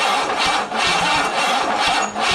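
A Chevy 350 V8 mounted on an engine stand cranks over steadily with a rhythmic chugging starter pulse, loud and close, without catching.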